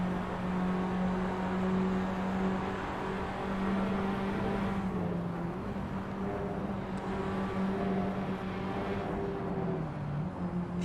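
Single-seater race car engines at the Red Bull Ring, a continuous loud droning whine that holds steady, shifts pitch slightly and dips a few times as cars lift and accelerate, with no gaps.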